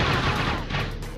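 Dense, loud explosions and rapid blasts fill a battle in the online game World of Dragon Nest, a continuous barrage of booming bursts with no pauses.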